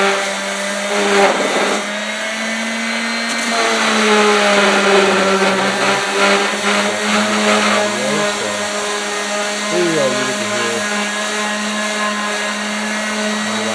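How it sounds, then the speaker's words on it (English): An electric sander that is near failure runs continuously on wooden chair parts, a loud steady whirring drone with wavering pitch as pressure on the wood shifts. "Sander, which is about to die."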